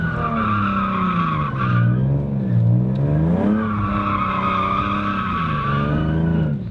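A Nissan 350Z revs hard and its tires squeal continuously in a loud, sustained screech, with engine pitch rising and falling through the run.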